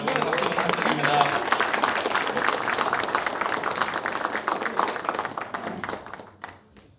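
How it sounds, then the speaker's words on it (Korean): Applause from an audience at a political gathering at the Jeju Chamber of Commerce: dense, close clapping from many hands that holds steady, then thins and fades out over the last second. "여러분 박수 부탁드립니다"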